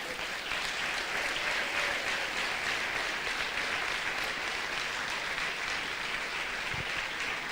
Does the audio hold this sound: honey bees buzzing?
no